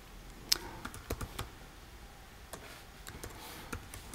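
Typing on a computer keyboard while entering an e-mail address in a registration form: scattered individual key clicks in short bursts with pauses, close and fairly crisp, no voices.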